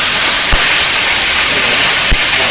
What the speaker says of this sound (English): what you want to do is actually do a quick fry with the skin down in the oil. And you can hear that it's burning.